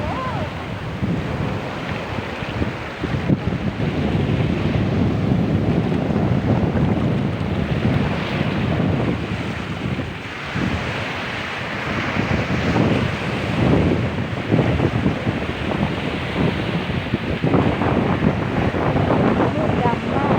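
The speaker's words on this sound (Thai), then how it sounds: "เขาคลื่นแรง" Strong waves surge and crash on a dark Thai beach at night, a loud, continuous churning roar of surf mixed with heavy wind buffeting the microphone, with faint voices now and then.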